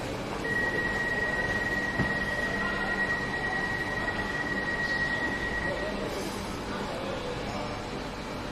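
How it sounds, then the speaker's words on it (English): An intercity train bound for Stuttgart rumbles past in a station, a steady loud rolling roar with a long high brake or wheel whine held through most of the passage, with faint voices in the background. "That's an intercity train to Stuttgart."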